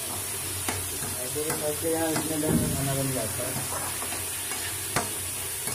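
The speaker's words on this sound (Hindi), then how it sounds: "और इधर हमारा खाना बन रहा है" Food cooking in a pan on a stove is stirred, with scraping and a soft sizzle and hiss while someone talks briefly over it.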